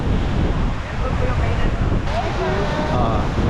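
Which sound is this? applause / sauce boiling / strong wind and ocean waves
strong wind and ocean waves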